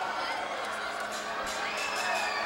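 Crowd noise at a high school basketball quarterfinal between West Milford and Wayne Hills, a steady roar of voices and shouts filling the gym while a player shoots free throws.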